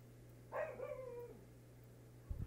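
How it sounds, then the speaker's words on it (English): A single dog gives one short bark trailing into a whine, close by and fairly clear against a steady low hum, followed by a brief low thump at the end. "And now my dog is barking."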